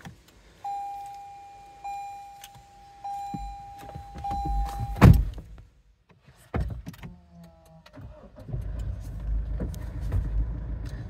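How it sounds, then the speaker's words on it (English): A Toyota Land Cruiser Prado diesel starts after a long electronic chime, cranking with a burst and then settling into a low, steady idle rumble inside the cabin. "Got that nice diesel sound."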